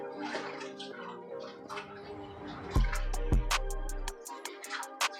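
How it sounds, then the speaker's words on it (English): Hands are washed under running water from a tap, a steady splashing flow with drips and hiss, plus a faint tonal hum in the background and no speech. "So I'm going to wash my hands."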